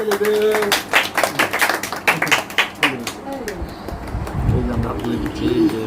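A small group claps in a quick, uneven burst for about three seconds at a home birthday celebration around cake cutting, then voices take over as the clapping fades.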